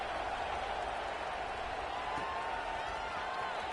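Football stadium crowd at a Georgia versus Alabama game, a steady distant roar and murmur of spectators throughout, subdued rather than cheering.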